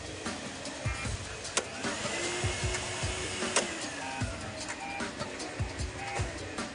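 Vacuum cleaners run on an industrial test bench in a factory test unit, producing a steady whirring motor drone with intermittent clicks and mechanical knocks throughout, at low to moderate level.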